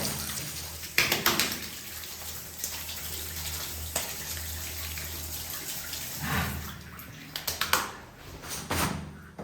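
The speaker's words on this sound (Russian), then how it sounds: "Смотри, вода чистая, краны работают." Water running from working taps inside an old underground bunker, a steady hiss of flow with a few louder splashes and knocks, heard close with no talking.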